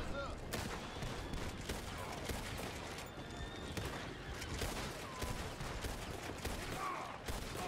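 Gunfire in Red Dead Redemption 2 crackles as a dense, continuous volley of shots from several guns, near and far, with hoofbeats and scattered voices mixed through the fight.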